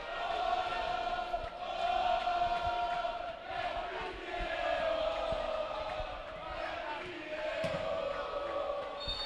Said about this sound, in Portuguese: é a torcida do Benfica e a torcida do União aqui do outro lado também responde